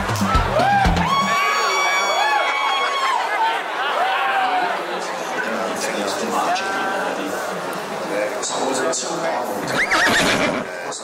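Horses whinny and neigh repeatedly at Happy Valley Racecourse in Hong Kong. The calls are loud and close, with a busy crowd and voices talking throughout.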